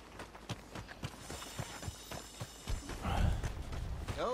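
Horse hooves clip-clop in Red Dead Redemption 2, a steady rhythmic trot of distinct, fairly quiet hoofbeats that gives way to louder rumbling movement near the end, with no one talking.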